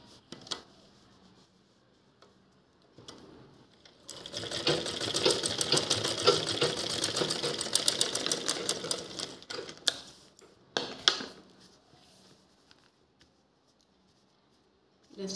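A sewing machine stitches the handle onto a reused shopping bag, starting and stopping in short runs before a long, steady rapid stitching stretch up close, with faint handling sounds around it.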